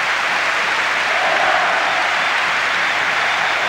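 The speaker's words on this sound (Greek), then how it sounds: "Τα χειροκροτήματα αρχίζουν." Applause at the medal ceremony of a junior men's under-19 basketball world championship, a dense, continuous clapping from a large crowd that holds steady and loud without pause.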